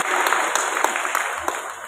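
A church congregation applauds the committee for a church holiday celebration, steady clapping throughout with a faint high tone underneath.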